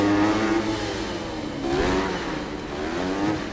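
Dirt bike engine in Monster Energy Supercross 6 revs loud and close, its pitch rising and falling across a continuous throttle-blipping drone with no talk over it.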